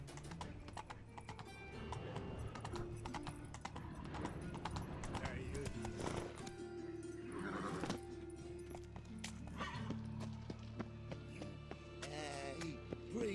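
Roach the horse gallops in The Witcher 3 video game, rhythmic hoofbeats under dense game music and effects, with a whinny and someone talking over the mix.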